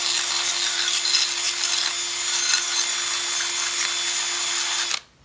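A power tool roughs up a steel surface on an old milling head so epoxy will grip, giving a loud, steady abrasive whir with a constant hum that runs unbroken for about five seconds and then cuts off.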